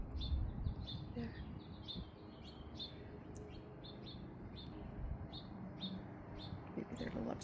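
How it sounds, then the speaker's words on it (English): House finches chirping in a garden, repeated short bright tweets in quick bursts at moderate distance, with a soft low voice and faint outdoor background underneath. "Can you hear the house finches?"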